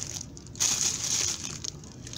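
Protective plastic wrap crinkles and crackles as it is pulled off a bar of Essential Depot organic shea butter soap, with a brief louder crunch near the middle and steady close-up rustling.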